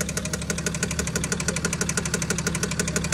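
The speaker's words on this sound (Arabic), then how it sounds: "محرك فيه صوت" BMW 530d with an N57 diesel engine running with a steady, rapid metallic knocking or ticking noise, loud and close, repeating evenly throughout with no talking.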